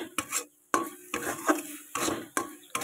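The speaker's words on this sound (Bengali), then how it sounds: "দিয়ে এটাকে সুন্দর করে নাড়াচাড়া দিতে হবে" A carrot laddu mixture is stirred in a pan, with repeated scraping strokes against the metal in an uneven rhythm, close and fairly loud with no talking.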